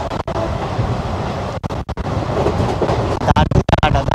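The 16116 Pondicherry–Chennai Express rolls along the rails, heard from on board as a loud, continuous rumble with rattling and clickety-clack and a few sharp momentary breaks.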